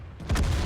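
A tank cannon shot in World of Tanks during a battle with an IS-3, landing as a single heavy boom about a third of the way in, its low rumble hanging briefly over steady background noise.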